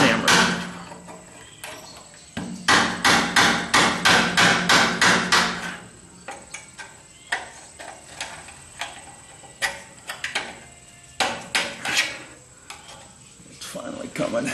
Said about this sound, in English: Try to tap with a dead blow hammer.